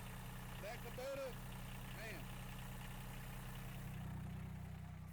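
Kubota diesel engine idling steadily in a mini truck, a continuous low, even rumble throughout with someone talking over it.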